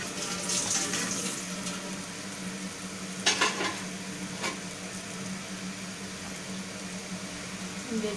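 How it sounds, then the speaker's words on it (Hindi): Aloo paratha set on a hot tawa griddle: a soft, steady low hiss of frying, with a couple of brief scraping clicks around the middle, quiet and without voices. "देखिए अब मैं तवे पे डाल रही हूँ इसे। तवे पे हम फ्राई करेंगे।"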